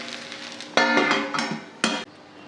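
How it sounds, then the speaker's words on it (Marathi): A metal lid clanks down onto a pan of sabudana khichdi cooking on the stove, several sharp metallic knocks and rattles close by, with a soft sizzle underneath. "आता 1 मिनिटभर आपण याच्यावर झाकण ठेवू।"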